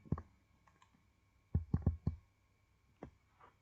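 Computer mouse clicks, close and crisp, a single click, then a quick burst of four, then another lone click, with quiet in between.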